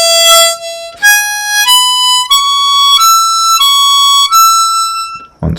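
An old-time harmonica tune phrase, 'Going up to Hamburg', climbs through seven or so distinct sustained single notes, each cleanly separated, played loud and close without speech.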